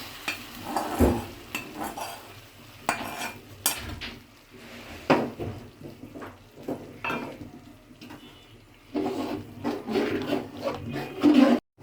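A metal spoon clatters and scrapes around a pot as green chillies are tempered in hot oil for haleem, with a soft sizzle beneath uneven bursts of stirring that pause and resume across the span.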